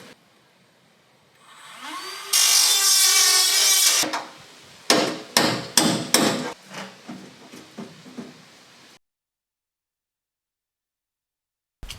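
A power drill whines for a couple of seconds while installing a Bushman 85-litre fridge in a PCOR canopy, followed by a series of sharp knocks and bangs on wood, then silence.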